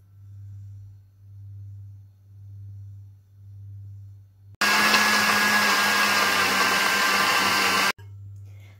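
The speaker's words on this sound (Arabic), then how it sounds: "انا غادي نحك هاد الكوزه وغادي نطحنهم ونتلاقاو" An electric grinder whirs loudly and steadily as it grinds dried herbs for Moroccan spiced coffee, a single continuous burst of about three seconds that begins and stops abruptly, set between stretches of a low pulsing hum.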